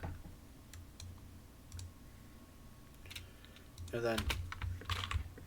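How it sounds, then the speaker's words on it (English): Typing on a computer keyboard while setting up Ubuntu 22.04, a light patter of key clicks under a speaking voice that drops in briefly near the end. "We're going to type in export."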